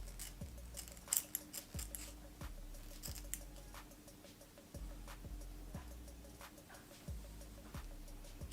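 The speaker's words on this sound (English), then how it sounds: "So you want to cut like pretty close to the hairline." Scissors snip hair close to the hairline, a quiet series of crisp metallic cuts at an irregular pace, each a sharp close click, with no talking.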